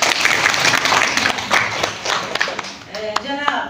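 Audience applause at a 4th-grade school quiz competition, a dense burst of clapping that fills the clip and thins toward the end, with voices talking over it.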